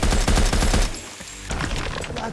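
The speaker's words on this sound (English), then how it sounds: "They're forced to retreat under heavy gunfire." A gun battle in a film sequence brings a loud burst of rapid heavy gunfire, which cuts out briefly to a quieter tone before distant shooting resumes at lower level.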